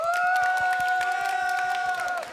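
A youth group audience at a church service bursts into loud cheering and whooping with scattered clapping, a sustained crowd roar that fades out toward the end.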